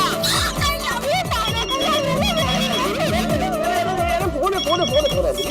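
Telephone ringing with a repeating electronic ringtone melody in a home comedy scene, loud and close, sounding in steady cycles with a voice talking over it.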